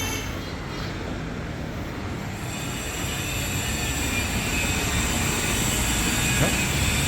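A Chennai–Trivandrum superfast passenger train rumbles past at a station platform with a steady, broad roar and faint wheel squeal, growing slightly louder over several seconds.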